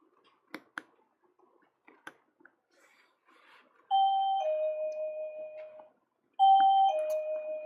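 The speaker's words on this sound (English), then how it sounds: "that should be the last time I hear that bell tonight." A shop doorbell rings twice as people leave, each a loud two-tone chime ringing out and decaying, after a few soft clicks and taps from the door opening.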